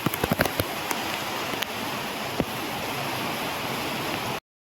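Steady, dense downpour of heavy rain over a village, a broad continuous hiss with a few sharp knocks and drips near the start, loud and close with no voices.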